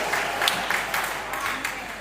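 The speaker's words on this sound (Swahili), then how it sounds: "Mshangilie Bwana kwa makofi na vigelegele kwa hilo" A congregation at a Pentecost Sunday morning church service applauds, with steady crowd clapping mixed with raised voices and possible ululation throughout.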